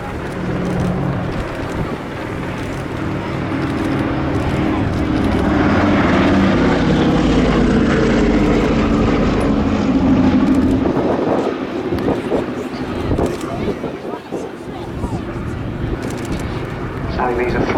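A propeller aircraft flies past at the 2017 Cosford Air Show, with a loud, sustained engine drone that swells and slowly shifts as it passes.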